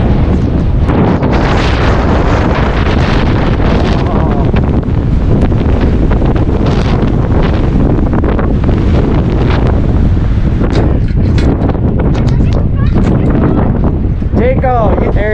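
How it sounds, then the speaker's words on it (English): Strong spring snowstorm winds gusting around 100 km/h, buffeting the microphone with a loud, continuous roar and rumble; a voice speaks intermittently beneath the gusts. "Wind gusting 100 kilometers per hour."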